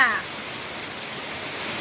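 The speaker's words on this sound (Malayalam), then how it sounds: "മഴ പെയ്യുന്നു" Steady rain hiss fills the short stretch, with a brief voice at the very start, continuing evenly and moderately loud throughout.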